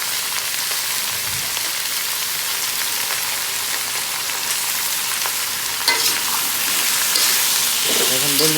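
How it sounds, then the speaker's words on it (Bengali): Vegetables seasoned with salt and turmeric sizzle in a hot pan as they are sautéed, a continuous crackling fry with occasional stirring scrapes toward the end, no speech. "এখন বন্ধুরা সুন্দর করে সবজিগুলো কষিয়ে নেব।"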